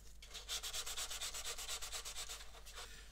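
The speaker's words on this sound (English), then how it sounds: "So I think just another very slight sand in here, just on the front edge." Hand sanding the front edge of a plastic 1/72 Airfix Avro Vulcan B.2 model kit with a loose sheet of sandpaper, heard as a steady run of quick, close back-and-forth rasping strokes, alone and fairly quiet.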